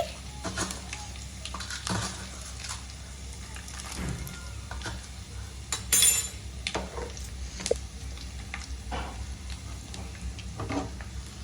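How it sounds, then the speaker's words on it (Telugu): Lentils, onions, cumin and mustard seeds stirred in a pan for tomato chutney, quiet light sizzling with intermittent scrapes and clinks of a utensil against the pan. "పచ్చనపప్పు మినప్పప్పు కూడా వేసుకొని బాగా మిక్స్ చేసుకోవాలి"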